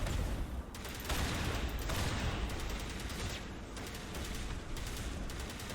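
Rapid gunfire crackles in the Mass Effect video game during a shotgun fight, dense overlapping shots and bursts filling the whole stretch at a steady, fairly loud level.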